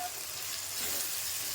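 Tomatoes sautéing in a pan for semiya upma, a steady close sizzle and hiss with faint stirring, no voices.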